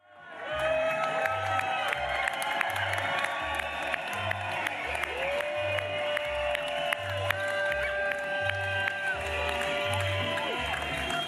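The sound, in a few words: crowd cheering and applauding at election victory party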